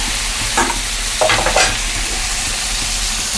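Boiled dal poured into a pan of sizzling fried onion, ginger and garlic for sambar, a loud steady frying hiss with a few stirring scrapes and splashy bursts.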